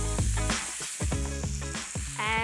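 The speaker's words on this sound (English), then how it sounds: "we're just going to flash fry this in batches" Kangaroo fillets flash fry in hot sunflower oil in batches, a loud, close sizzle broken by rhythmic tossing and clattering of the pan every half second or so, with no voices.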